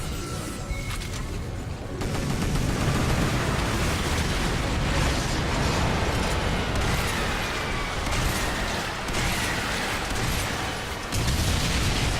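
Enemies blowing up in Earth Defense Force 4.1, a continuous loud roar of overlapping explosions and crackling bursts that keeps going with only brief dips.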